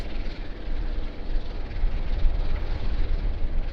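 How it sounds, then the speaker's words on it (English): A Jetstar airliner arrives on runway 16 left at Sydney Airport, a steady, loud broadband jet roar with deep low rumble that holds evenly throughout. "Another Jetstar arrival on runway 16 left."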